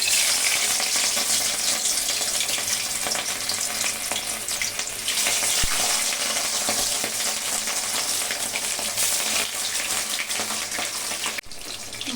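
Pieces of catla fish frying in well-heated oil in a kadai give a continuous, close, dense sizzle and crackle that holds steady throughout with no voices.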